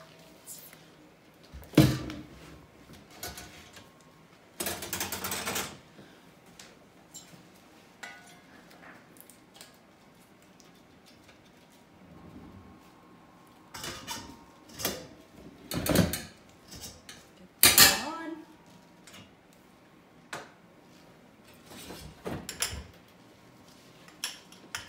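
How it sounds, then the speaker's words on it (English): Bleached stainless milking bucket and tubing handled in a kitchen, with scattered metallic clanks, scrapes and rattles arriving in irregular bursts between quiet gaps, close and moderately loud. "I pull out our bucket."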